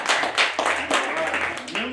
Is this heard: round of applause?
yes